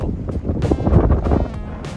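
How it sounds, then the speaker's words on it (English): Wind gusts buffet the microphone at Kagoshima bay with Sakurajima across the water, producing loud, uneven low rumbling blasts that swell and fade alongside some faint brief higher rustles. "It's windy."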